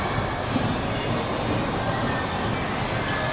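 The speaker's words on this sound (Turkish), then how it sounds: "Asel Mina ve annesi trene biniyor." Continuous rumbling and rattling of a small amusement park ride train running along its track, a steady mechanical roar with no speech.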